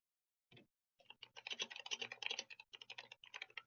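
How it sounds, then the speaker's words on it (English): Rapid, uneven typing on a computer keyboard at a desk, a short burst of clicks then a dense continuous run of keystrokes, close and fairly quiet, with no talking. "Oh, that is annoying typing,"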